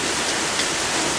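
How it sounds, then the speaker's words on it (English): Heavy rain pouring down outdoors, a steady dense hiss of water with no breaks, fairly loud and even throughout, with no voices. "you can hear me over the rain. It is pouring and smells so wonderful."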